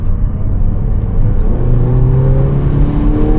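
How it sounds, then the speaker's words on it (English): A Mazda CX-90 PHEV pulling away hard onto a highway, a steady loud drone of engine and road noise with a rising tonal whine as speed builds, no talking. "we're going to take off hard here and see if the engine starts"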